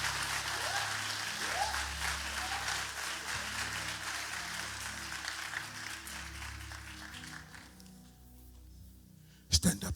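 A church congregation claps together in a sustained, steady wave of applause over low music and crowd voices, which fade toward the end before a brief loud burst.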